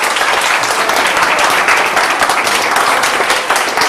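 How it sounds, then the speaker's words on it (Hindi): Studio audience on a Sindh TV game show breaking into loud, dense applause, a sustained roar of clapping close and full throughout. "और इसमें भी तालियां होनी चाहिए मेरे ख्याल से।"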